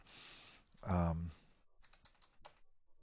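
A name is typed on a computer keyboard: a quick run of soft, close key clicks following a brief spoken voice, quiet and sparse.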